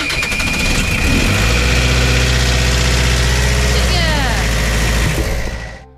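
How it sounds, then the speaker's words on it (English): A sailboat's inboard engine, cranked to warm its oil before an oil change, runs at a steady loud idle for several seconds before cutting off at the end. "First step to changing the oil is to crank the engine so the oil can warm up."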